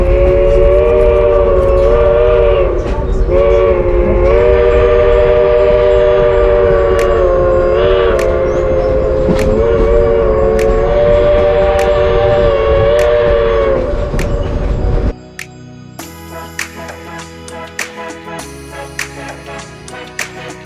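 A Great Smoky Mountain Railroad excursion train sounds a long sustained horn over steady rumbling rail noise for about fifteen seconds, then the horn cuts off and leaves a quieter interior with scattered clicks and knocks.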